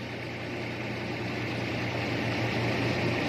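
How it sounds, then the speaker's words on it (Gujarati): A tractor-driven Shree Ganesh thresher runs at a steady low mechanical drone that swells slightly louder as it speeds up, with no voices over it. "જો હલર વધ્યું હલરની સ્પીડ વધી બરાબર."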